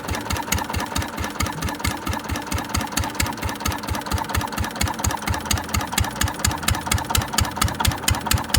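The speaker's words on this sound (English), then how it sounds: "It's a pretty smooth running engine." An antique single-cylinder Witte diesel engine runs close to the microphone, a steady, regular chug of evenly spaced firing beats, loud and unaccompanied for the whole stretch.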